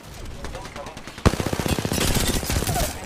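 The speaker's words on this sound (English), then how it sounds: "The enemies are shooting at me." Rapid automatic gunfire in a video game, a sharp burst starting after a quieter stretch and then a fast, steady stream of shots continuing to the end, with game voice lines and other effects underneath.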